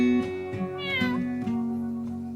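A mother cat on a farm meows loudly and close, a long drawn-out call with rising and falling pitch, heard alone without talk.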